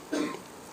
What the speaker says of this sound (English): Someone's coughing up a lung out there.